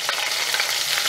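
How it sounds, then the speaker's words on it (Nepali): Sliced medium onion frying in oil for chana dal, cooking toward light brown with a steady, continuous close sizzle and crackle throughout, no voices. "प्याजलाई हामीले अलिअलि लाइट ब्राउन हुने गरेर भुट्नुपर्ने हुन्छ।"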